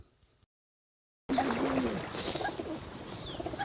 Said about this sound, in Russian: Сейчас мы с мужем кормим вот этих голубей